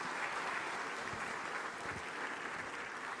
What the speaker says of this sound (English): A round of applause for the President of our Republic.